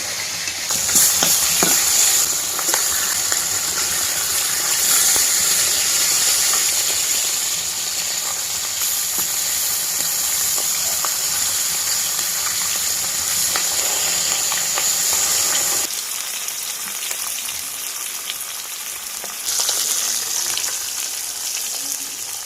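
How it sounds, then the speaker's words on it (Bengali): Pieces of katla fish fry in hot oil in a home kitchen, a loud steady sizzle and crackle that runs without a break and eases slightly near the end, with no talking. "তেল গরম হয়ে গেছে মাছ দিয়ে দিচ্ছি এক এক মাছগুলো দিয়ে ভাজবো প্রথমে"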